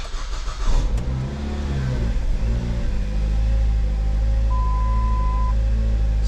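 A car engine with a suspected cam position sensor fault cranks and catches, then settles into a loud, steady idle that runs a little rough, with a brief electronic beep partway through.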